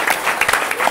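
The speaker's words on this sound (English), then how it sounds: "That's a round of applause." Audience applause during a panel discussion on hip hop and R&B, a short burst of dense clapping at steady loudness, with no voice over it.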